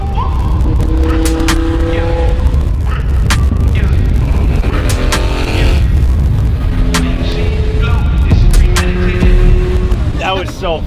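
A sports car, likened to a boat, cruising at highway speed around 100, its steady engine and road roar filling the cabin while people chatter and laugh over it.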